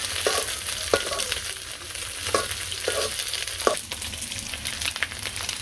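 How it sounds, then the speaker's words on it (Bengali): Eggs frying in a pan for a home-cooked meal, a steady sizzle running throughout with several short scraping stir strokes, close and moderately loud, no talking. "ডিমগুলো ভালো করে ভাজা হয়ে গেলে তারপরে চিচিঙ্গা দিয়ে দিব"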